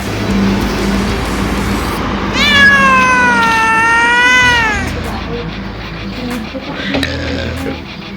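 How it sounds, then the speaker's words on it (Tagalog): A cat meows inside a moving car, one long drawn-out wavering meow in the middle and a shorter one near the end, over steady road and engine rumble. "May dala-dala kaming pusa."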